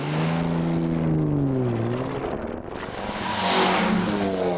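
A classic rally car on the Caramulo hill climb pulls away from the start, its engine note loud and close, climbing steadily in pitch, dipping briefly as it shifts, then rising again.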